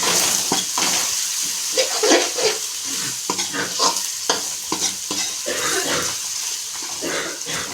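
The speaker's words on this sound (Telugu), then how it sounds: "మిరియాల పొడి ఇవన్నీ ఒకసారి కలుపుకోవాలి బాగా దీనికి పట్టేలాగా ఇలా కలుపుకోవాలి" A spoon stirs pepper powder into egg tomato pulao frying in a pan, giving repeated scraping strokes over a continuous close sizzle.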